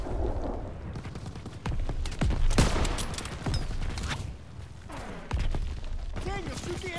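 Rapid gunfire and explosive thuds from a Call of Duty battle with German forces, dense bursts of shots and booms close up, with voices shouting commands over the combat.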